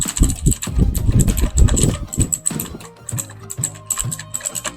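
Typing on a Rapoo V500 Pro mechanical gaming keyboard, a steady run of close, crisp key clacks with uneven rhythm and some louder strikes, heard alone without talking.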